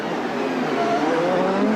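A 1998 CART Indy car, the Valvoline Cummins entry driven by Gilles de Ferran at the Long Beach street circuit, runs at speed with a steady high-pitched engine whine and a rising tone, loud and continuous with no voices.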